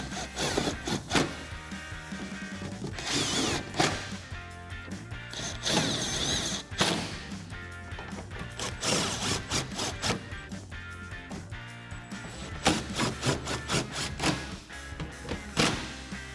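A power gun driving thin suspension bolts through plastic on a 2012-2018 RAM 1500 during a 3-inch lift install: repeated loud bursts of whirring and rattling with short pauses, close by, no talking.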